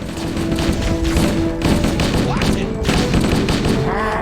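Rapid gunfire in the first-person shooter Halo, aboard the ship the Pillar of Autumn: dense, loud bursts of shots and booms that run almost without a break, with game sound layered beneath.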